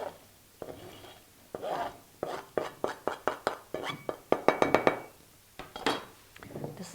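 Chopped walnuts tip into cookie dough in a bowl, giving a run of quick, close clinks and clatters like nuts and a utensil striking glass, bunched in bursts over several seconds with a brief voice between.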